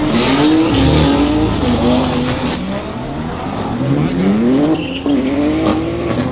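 Supercar engine revving hard on a street, its tone rising and falling through several loud gear pulls, with a brief tire-squeal-like chirp near the end; loud and close throughout.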